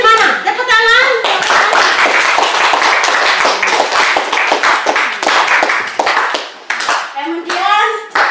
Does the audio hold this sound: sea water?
no